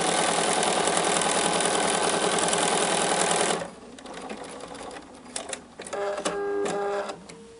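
Sewing machine stitching a quarter-inch seam on a quilt block, a steady fast mechanical whir for several seconds at close range, then stopping into quieter handling clicks and rustles.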